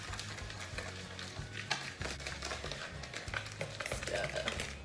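Cupcake batter stirred by hand in a bowl, a close, busy scraping and clattering with rhythmic strokes and brief knocks throughout, no voices.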